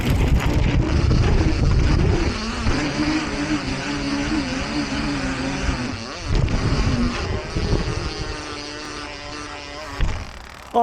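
Pace RC250T retro trials motorcycle with a baggy chain revs loudly up close, its engine rasping and pulsing over wind noise, then dropping and surging in uneven bursts.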